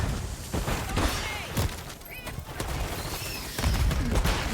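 Rapid video game gunfire crackles in bursts and fusillades, loud and dense, with scattered impact sounds and a player's voice speaking over the action.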